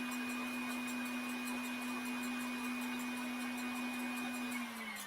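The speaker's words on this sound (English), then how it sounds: "I don't know if you guys can even hear me talking over the mixer" Electric mixer whipping a candied nut coating, a steady close motor whine with a constant pitched hum throughout, dropping slightly in pitch at the very end.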